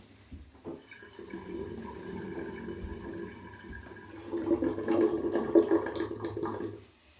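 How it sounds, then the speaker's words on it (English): Shaving rinse water drains from a bathroom sink with a gurgling, sloshing rush that swells louder toward the end before trailing off, heard close and alone. "I'm going to empty the sink and towel off"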